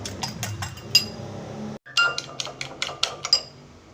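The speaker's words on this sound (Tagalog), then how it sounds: "Batihin natin ang itlog." Eggs whisked in a bowl with a utensil, a quick run of light clinks and taps against the rim, steady at first, then after a brief pause a series of sharper, separate knocks, close and fairly loud.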